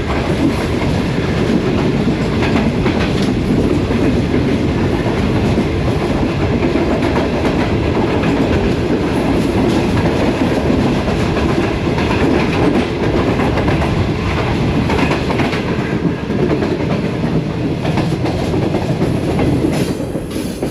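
The Shalimar Express runs toward Toba Tek Singh station in Pakistan. Its steady, loud rolling rumble and rhythmic clickety-clack of wheels over rail joints carry on without a break, with no voices.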